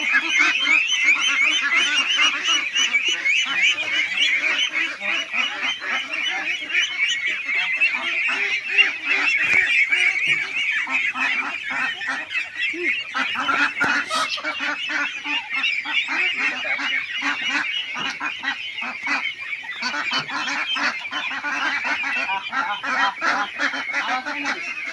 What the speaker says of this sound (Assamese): এয়া মোৰ 70 দিনীয়া হাঁহ